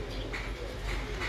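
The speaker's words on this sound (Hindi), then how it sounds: "छठा कबूतर बैठ रहा है" A pigeon landing on a rooftop gives soft cooing calls over a steady hum of background noise, faint and brief.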